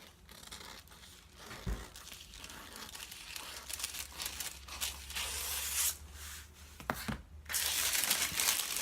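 Scissors cutting away a paper sewing pattern piece for a front bodice, soft crinkling and snipping with a few sharper cuts, fairly quiet and close.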